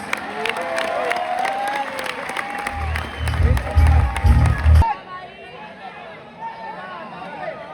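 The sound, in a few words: crowd applause at kabaddi match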